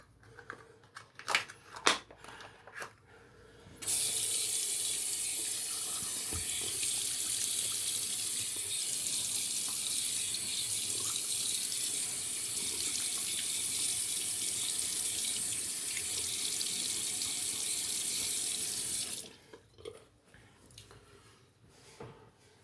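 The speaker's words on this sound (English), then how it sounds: "Let's rinse the face off with cold water" Water runs from a bathroom tap for rinsing the face after a shave, a steady close splashing flow lasting about fifteen seconds, framed by faint clicks and handling sounds before and after.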